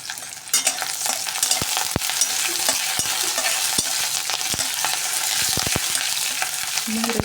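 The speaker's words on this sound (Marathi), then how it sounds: "मोहरी आणि जिरे पण आपण घालून घेऊया याच्यामध्ये." Mustard seeds and cumin frying in hot oil with curry leaves and a pinch of asafoetida, a steady close sizzle broken by sharp popping crackles and stirring clicks throughout.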